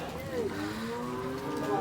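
A bull at a wholesale cattle market in Kerala gives a single drawn-out moo with a wavering tone, fairly close, over low crowd murmur.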